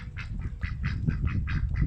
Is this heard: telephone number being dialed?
no